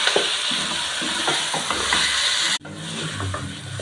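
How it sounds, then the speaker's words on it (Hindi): Half a kilo of washed mutton frying in a pan, a steady close sizzle with scraping stirs throughout and a brief cut before the frying continues. "इसमें इसको थोड़ा सा फ्राई करूँगी।"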